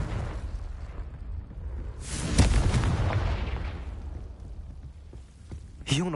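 A Confringo spell explosion in the Hogwarts Legacy video game: a loud, booming blast about two seconds in that rumbles and fades, followed later by a sharper burst near the end.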